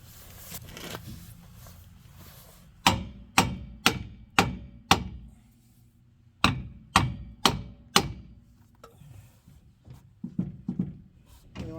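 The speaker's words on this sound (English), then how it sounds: "Need the regular hammer." A regular hammer strikes metal during a rear brake job on a Dodge Dakota, with two sharp runs of five to six evenly spaced loud blows, then a few softer taps, over low shop background noise.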